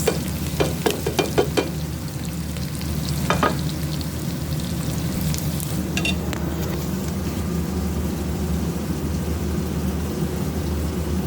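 Carrots stir-fried in a pan: a steady close sizzle under a low rumble, with a quick burst of spatula clatter early on and a few later scrapes, no speech.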